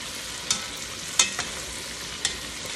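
Chicken leg quarters sauté in a pan under a steady, moderately loud broadband sizzle, with a few sharp clinks of a utensil turning the pieces, no voices.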